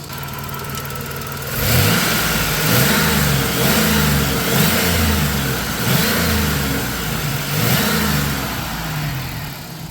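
A 1991 Dodge Grand Caravan engine, abandoned for over 21 years, starts up and revs in repeated surges. The close, loud rise-and-fall pulses roughly every second and a half sit over a steady idle, with no talking.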